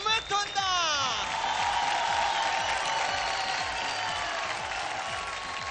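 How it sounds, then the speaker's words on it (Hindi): A television dance competition's studio audience applauds and cheers loudly in a sustained, dense wash of sound after a brief rising sweep at the start. "आप डबल जोरदार तालियों से स्वागत कीजिए"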